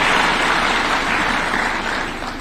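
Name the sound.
audience applause for tree-planting institutions at award ceremony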